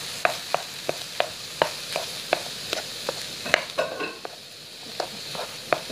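Onion stirred in a pan of hot khlii fat, a steady rhythm of sharp spoon taps against the pan over a soft continuous sizzle, close and clear, with no talking.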